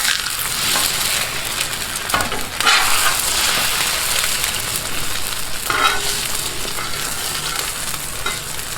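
Eggs sizzle on a hot Blackstone flat-top griddle as they are flipped for a breakfast sandwich, a loud, continuous frying hiss with a few scraping spatula bursts, and no talking.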